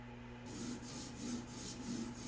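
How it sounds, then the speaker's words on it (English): A Tops Wild Pig Hunter fixed-blade knife is ground on a stone in a Tsprof K03 guided sharpener, producing soft, repeated back-and-forth rasping strokes, about two per second, quiet and close against a low steady hum. "You're grinding on burr, you're rolling it back and forth."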